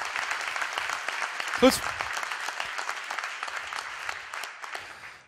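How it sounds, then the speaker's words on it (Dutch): A crowd at a social media club talk applauds steadily throughout, with a brief spoken word near the start over the sustained clapping. "Een groot applaus en volledig terecht wat mij betreft."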